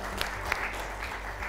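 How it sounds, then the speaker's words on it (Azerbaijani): A studio audience applauding, a dense steady patter of clapping at moderate level with a low hum underneath. "Elxanı da alqışlayaq mı?"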